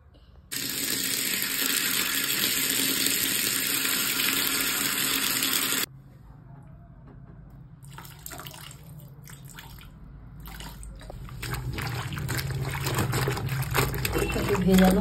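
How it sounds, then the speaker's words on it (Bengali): A child's shorts are washed in water with Dettol: a tap runs loudly for several seconds, then stops, giving way to softer splashing, dripping and wet handling of the cloth up close. "এখন এগুলোকে একটুখানি ডেটলে ধুয়ে দেবো"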